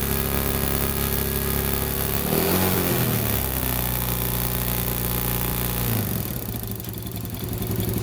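A motorcycle engine clatters at idle nearby, then revs up sharply for a couple of seconds as the throttle is squeezed, and settles back to a steady idle and falls quieter near the end.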